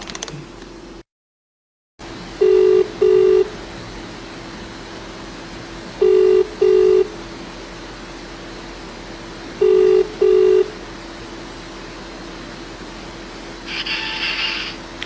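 Telephone dialing and ringing while calling a prize winner: three pairs of evenly spaced tone bursts sound alone over a steady low hum, followed by a brief higher electronic tone at the end.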